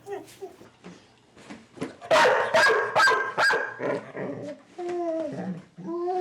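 A dog, distressed by separation anxiety, barks in loud, repeated bursts mixed with higher whimpering and yipping cries, close and insistent throughout.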